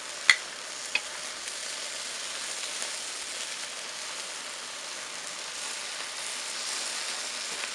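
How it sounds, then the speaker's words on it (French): Meat searing on a SCHOOP stainless steel barbecue grill, a steady soft crackling sizzle throughout, opened by a couple of sharp metallic clicks. "On va avoir vraiment une bonne saisie des viandes"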